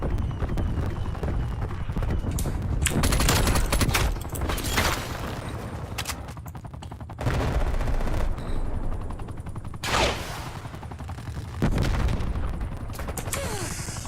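Bursts of automatic gunfire in Call of Duty Black Ops Cold War multiplayer come in several loud volleys separated by short lulls, mixed with other game noise and faint background sounds.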